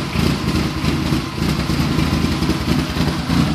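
Turbocharged VW Beetle Baja engine with an AP engine running nearby at a steady rough idle with a slight rise in revs, loud and continuous with no speech over it.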